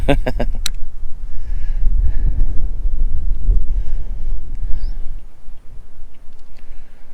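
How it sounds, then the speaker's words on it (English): Wind buffets the microphone outdoors at a lakeside fishing spot, a steady low rumble with gusts, briefly louder at the start and easing toward the end. "the wind is blowing opposite"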